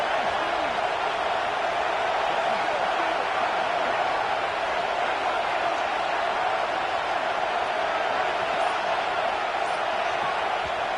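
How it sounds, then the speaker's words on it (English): A packed college football stadium crowd roars steadily as the home fans make noise for their defense during a red zone stand, a dense, unbroken wall of cheering that holds at full loudness throughout. "This crowd is trying to inspire this defense to make a big red zone stop."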